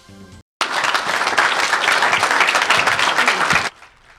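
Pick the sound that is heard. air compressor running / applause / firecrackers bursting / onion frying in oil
applause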